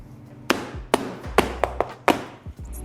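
A cake pan of savory abon sponge batter is banged down repeatedly on a counter to settle it, giving six or seven sharp, hollow knocks at uneven intervals, close and fairly loud.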